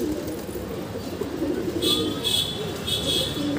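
A pet pigeon coos in low, rolling murmurs close by, with a few brighter chirps from other birds over a constant background hum.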